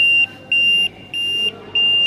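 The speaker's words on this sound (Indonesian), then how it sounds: "Nah, ini sudah habis waktunya, kebetulan sudah habis, alarm berbunyi" Timer alarm on an Arduino Nano-controlled smart drying oven with a MAX6675 thermocouple beeps in four loud, steady high-pitched tones, each roughly a quarter to half second long, evenly spaced, close by with no talking.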